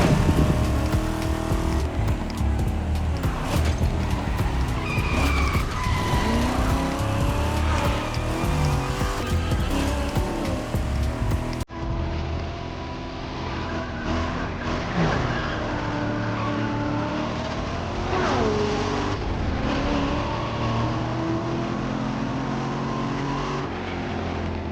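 Toyota Supra racing on winding Hawaii mountain roads in The Crew Motorfest, with a loud engine that rises and falls through gear changes and repeated tire squeals on corners, continuous throughout.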